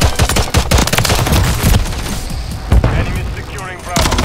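Pistol fire in Call of Duty multiplayer, a loud, close burst of rapid cracking shots with dense rattling and impact noise, pausing briefly before more shots resume, with a player's voice talking over parts of it.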